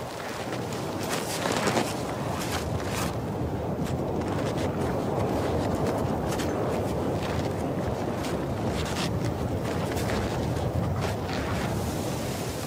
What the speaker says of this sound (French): Le vent est si fort qu'il peut déstabiliser une cordée.